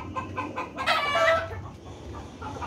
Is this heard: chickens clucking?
yes